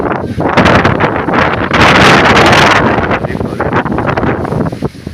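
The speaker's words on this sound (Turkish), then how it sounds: "Rüzgar çok" Loud, gusty wind buffets the microphone with roaring rumbles that swell and ease, peaking strongly in the middle.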